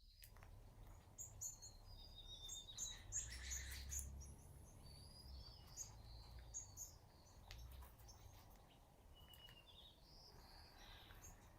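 Birds chirping outdoors, faint scattered tweets and short calls over a low, steady rumble of distant background noise, with no voices.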